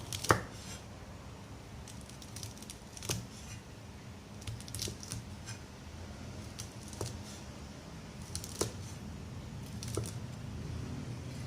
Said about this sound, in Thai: นี่เราก็จะมาหั่นทั่วฝักยาวอย่างนี้นะคะ